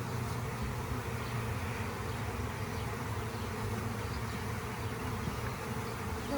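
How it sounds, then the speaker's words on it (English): A dense swarm of honey bees from a package being installed into a hive drones in a constant, loud, close buzz that fills the whole stretch without breaks. "There's so many bees."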